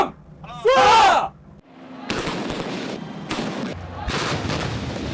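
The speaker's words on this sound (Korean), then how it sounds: "거대한 폭음이 훈련장을 뒤흔듭니다." A K9 self-propelled howitzer fires during live-fire training at a range in Cheorwon, Gangwon Province. A voice shouts a command first, then a loud blast booms and rolls on in rumbling echoes with further cracks.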